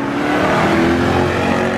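A car engine revs hard at a cars and coffee meet in Atlanta, a loud, close, continuous roar with rising and falling throttle and no talk over it.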